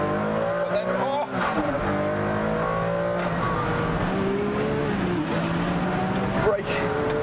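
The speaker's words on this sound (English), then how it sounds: "brake, blip, change down later, Tiff." A Ferrari on a race track, its engine note rising and falling as it brakes with throttle blips on downshifts. It sounds loud and close throughout, with a voice talking over it.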